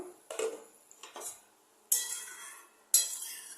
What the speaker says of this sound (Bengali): মিনিট হয়ে গেছে, আমি এবার ঢাকাটা খুলে দেবো।